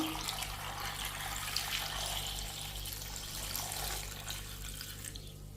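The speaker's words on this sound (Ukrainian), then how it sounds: "Тепер заливаю холодну водою." Cold water runs from a tap onto cut turnip and potatoes in a pot, a steady close splashing pour that rises in the middle and tapers off near the end.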